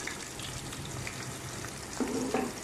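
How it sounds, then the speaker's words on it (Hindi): Sliced onions sizzling in hot oil in a pan with browned spices while mutton cooks, a steady soft crackle with a brief stir near the end. "अभी मैं इसमें डालने लगी प्याज। प्याज को हल्का सा ब्राउन करेंगे।"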